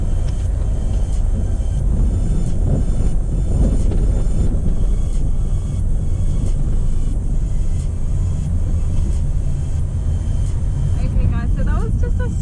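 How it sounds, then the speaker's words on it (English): Car driving on a highway heading south on a Cape York return trip, with steady low road rumble and engine drone throughout, close and continuous, under occasional faint talk. "Now as for me, I am about to keep driving."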